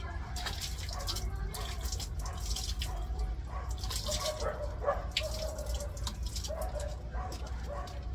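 Fruit being washed by hand under running water, with a steady splashing and dripping wash running throughout, close and moderately loud, with faint background sounds.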